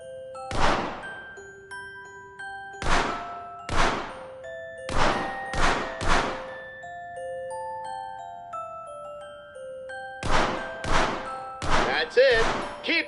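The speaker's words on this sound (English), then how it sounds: "Keep shooting those targets" Gunfire striking targets in The American Dream, a VR shooting game: a series of sharp, loud metallic impacts with ringing tails, coming singly and in quick pairs, then a rapid cluster near the end.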